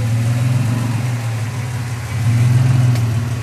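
A four-wheel-drive car turning hard right into a puddle on an off-road track in Tasmania's Sawback Range, its engine humming steadily and close, with a brief rise in revs; no splash stands out.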